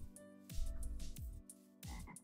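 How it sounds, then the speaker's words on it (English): Frogs in the Minecraft video game (modded 1.12.2) give several low, gulping croaks in an irregular rhythm, close and clear over a faint background tone, with no one speaking. "Hey, froggies."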